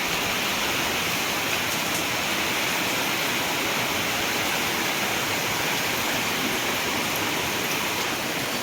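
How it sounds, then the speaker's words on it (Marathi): Heavy, continuous rain pours down steadily and loudly during a prolonged downpour in rural Maharashtra, a dense unbroken hiss with no voices over it. "कंटिन्यू पाऊस चालू आहे"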